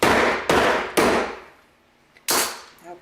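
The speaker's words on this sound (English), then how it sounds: "I have a 1-pound brass mallet, and I'm just going to hammer this through" A 1-pound brass mallet strikes metal sheet resting on a urethane pad, giving four sharp, loud clanging blows: three in quick succession, a pause, then a fourth, each ringing briefly before decaying.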